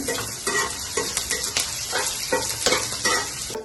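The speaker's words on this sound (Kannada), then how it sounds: "ತೆಂಗಿನಕಾಯಿ ಎಲ್ಲ ಚೆನ್ನಾಗಿ ಫ್ರೈ ಮಾಡ್ಕೊಳ್ಳಿ" Grated coconut fries in a pan for pongal, with a steady sizzle broken by repeated scraping strokes of a spoon stirring against the pan, close up and with no voices.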